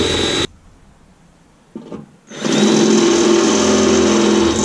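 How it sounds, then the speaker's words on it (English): A rivet nut gun sets an 8x32 threaded rivet during a body kit install on a BMW E30, with a loud steady mechanical whir, a brief pause, then the tool running again. "So this is how the rib nut gun works."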